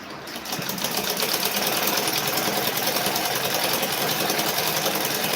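A sewing machine runs fast and steady while stitching dresses at home. Its rapid mechanical chatter spins up within the first half second and then continues close and loud, with no one speaking.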